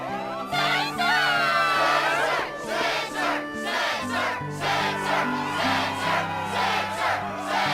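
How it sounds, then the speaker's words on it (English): Crowd cheering at a Struggle match in Kingdom Hearts II, a loud sustained roar of shouts and whoops with musical tones underneath, swelling in repeated waves. "Yes, the crowd is fired up,"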